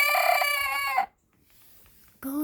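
A pet hen lets out a strained, rooster-like crow, a loud harmonic call lasting about a second, then a brief quiet gap before a second crow begins near the end, recorded close by.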